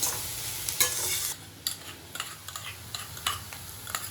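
Chopped onion sautéing in a pan for a Maharashtrian birda vegetable dish, a steady close sizzle broken by repeated scraping stirs of the spoon, quiet and without voices.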